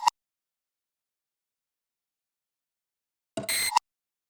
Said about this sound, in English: The next thing I have here is the percussion,